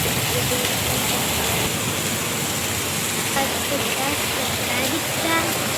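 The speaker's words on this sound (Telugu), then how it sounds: "బాగా వస్తుంది వర్షం" Torrential rain pouring down in a steady, dense hiss, continuous and fairly loud with no break, a few faint sounds over it.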